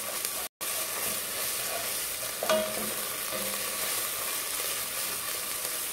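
Tomato paste is stirred in a frying pan, giving a continuous hissing sizzle with one spoon scrape standing out midway, and no voices.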